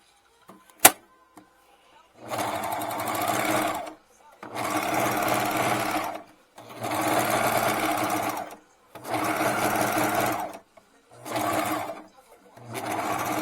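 A serger overlock machine stitching through fabric, running in five steady bursts of a few seconds each with short pauses between, close and loud after a single sharp click at the start.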